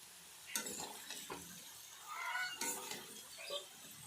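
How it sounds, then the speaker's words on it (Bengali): Eggplant pieces frying in a pan, a moderate sizzle broken by clinks and scrapes of a utensil against the pan, with a few louder bursts of stirring, no talking. "এবার ভেজে নেবো বেগুনগুলো"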